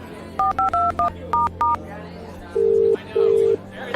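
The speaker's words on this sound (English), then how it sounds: "Theo picked up his phone and called Elise" A phone keypad beeps out a quick run of DTMF dialing tones, then two longer ringing tones follow, clean and close in an audio drama scene.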